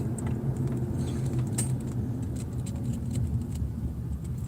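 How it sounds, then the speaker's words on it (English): Road traffic rolling past outdoors on a Chicago street, a steady low rumble of cars with faint higher clinks, continuous throughout. "fucking traffic"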